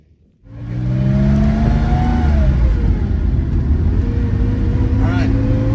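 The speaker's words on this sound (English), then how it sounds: "You can see a little blue 914 coming up and down this hill." A 1971 Porsche 914-6 engine revs loudly and steadily as the car climbs a hill, rising pitch then easing off, continuous throughout after a brief quiet start.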